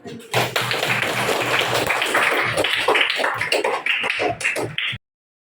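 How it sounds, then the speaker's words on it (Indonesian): Classroom of students clapping together for themselves after agreeing on class beliefs, a loud, close burst of many hands with uneven rhythmic accents, stopping abruptly near the end. "Kalau gitu kita kasih tepuk tangan untuk kita."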